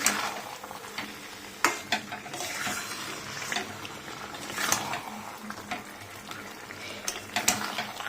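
Masala being stir-fried for methi chicken, with a busy sizzle and repeated scraping and clinks of a ladle in the pan, close by and without speech.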